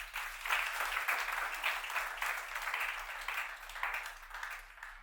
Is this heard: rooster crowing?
no